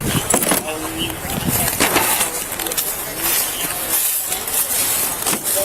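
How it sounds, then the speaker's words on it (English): Car keys jangling close and loud in short metallic bursts, most busily early on, over background street and vehicle noise with people talking. "do you have the keys for the car?"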